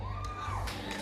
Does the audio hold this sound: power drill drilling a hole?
no